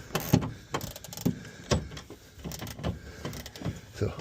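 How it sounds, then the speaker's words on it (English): A battery ratchet winds out a towbar bolt on a Ford Transit Custom, giving short whirring bursts in an uneven rhythm with brief pauses, close and moderately loud. "I'm just gonna put the battery ratchet on."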